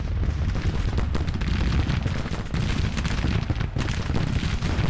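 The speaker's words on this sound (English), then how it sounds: "Now he's bringing in artillery over there." Artillery and massed musket fire rumble across a Civil War battlefield in Grand Tactician, a steady barrage of overlapping booms and gunshots at mid distance with no pauses.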